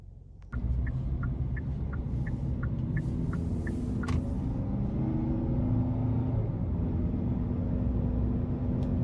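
A 2022 Hyundai Santa Cruz SEL AWD with a 2.5 liter engine drives on the road in normal mode, with a steady low engine and road rumble heard from inside the cabin after a clunk at the start, plus a few faint chimes.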